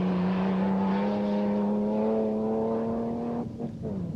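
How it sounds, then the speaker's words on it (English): A Nissan Patrol rally car at the 1990 Dubai International Rally drives past with a loud, steady engine drone whose pitch climbs slowly, then shifts and wavers near the end. No voices. "the Nissan Patrol of Qatar's Nasser Salah Al Attiyah and Abdullah Al Mari"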